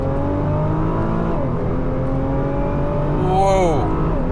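A 2021 Nissan GT-R's V6 engine revs hard and accelerates close by, its pitch climbing and shifting, with a voice briefly audible over it.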